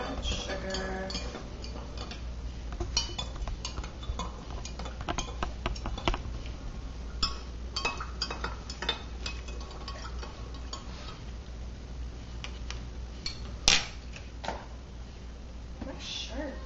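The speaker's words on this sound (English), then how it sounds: "stir up the cardamom, stir up the sugar" A spoon clinks and ticks steadily against a cup while cardamom and sugar are stirred into yerba maté with almond milk, a light rhythmic tapping that runs under ongoing talk.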